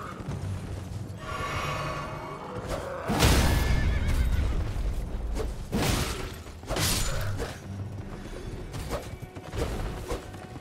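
A horse whinnies loudly and repeatedly in the Elden Ring video game, with hoof clatter and crashing game effects around the calls and no talk.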